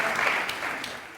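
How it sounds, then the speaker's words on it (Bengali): Studio audience applause on a courtroom-style talk show, a brief dense patter of clapping at steady volume. "যদি ওনাদের ইচ্ছে হয় হাততালি দেবেন"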